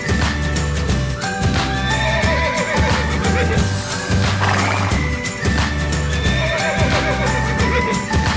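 A horse neighs loudly several times, with clip-clop hoofbeats and a steady background bed, the kind of farm-animal sound used for children learning animal names.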